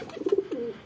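A pigeon, newly brought in by a keeper, gives a single short, soft coo that is close and alone.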